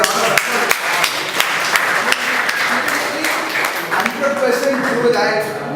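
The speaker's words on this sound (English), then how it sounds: "Just give her a round of applause." An audience at a Toastmasters club meeting breaks into steady, sustained applause after a speech, with many hands clapping at close range throughout.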